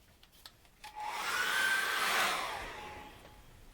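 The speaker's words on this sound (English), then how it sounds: "dry that off with a hairdryer" A hairdryer switches on and blows steadily with a whirring hiss for a few seconds, then winds down, alone in a quiet room.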